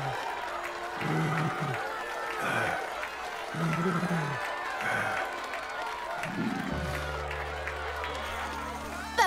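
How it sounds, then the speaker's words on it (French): Cartoon audience claps and cheers for a beaver character, a steady crowd applause running the whole time, with bright tonal voices and sounds over it. "On applaudit bien fort notre ami Papy Castor."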